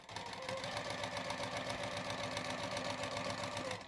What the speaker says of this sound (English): I'm going to start on the very edge again and sew along